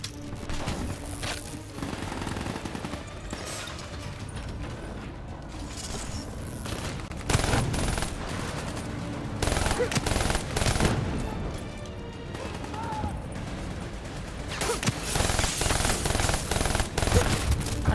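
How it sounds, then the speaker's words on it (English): Sustained gunfire rattles through a Call of Duty Black Ops 3 firefight on PC, with repeated automatic bursts and scattered shots, some louder and closer, continuing without pause over a busy battle backdrop. "I know he's getting shot from somewhere behind me"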